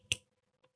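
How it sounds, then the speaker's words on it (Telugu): A single sharp finger snap meant to call someone over rings out close and crisp, followed by a faint tick about half a second later, with silence in between. "ఇప్పుడు చూడు, దీన్ని చిటికేసి పిలుస్తా"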